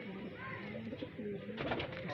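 High flyer pigeons in a loft in Bareilly, India, coo in low, soft repeated phrases throughout, with a brighter rustle or flutter near the end over steady background noise.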